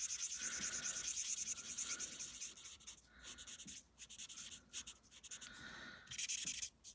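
Watercolor pencil rubbing across cardstock paper in close, dry scratchy strokes that come in bursts with brief pauses, steady and fairly quiet with no talking.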